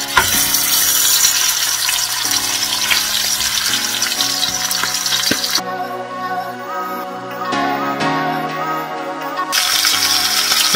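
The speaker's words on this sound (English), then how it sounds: "we're gonna toss this in and caramelize and brown each side of the lamb shank for a couple minutes" A lamb shank searing and browning in a hot pan gives a steady, loud sizzle and crackle that runs throughout, over a low hum of kitchen sounds.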